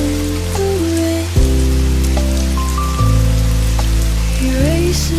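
Rain falling on a rainy day at a seaside cafe by the sea, a steady soft hiss running beneath loud sustained music chords that shift in slow steps.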